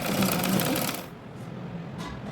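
Sewing machine stitching blouse fabric in a rapid, loud mechanical run that stops about a second in, then a quieter hum with brief clicks.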